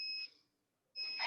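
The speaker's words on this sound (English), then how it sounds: "here's our timer." Workout interval timer emitting two steady electronic beeps, each a clean high tone lasting about a quarter second, separated by a short silent gap, quiet and alone.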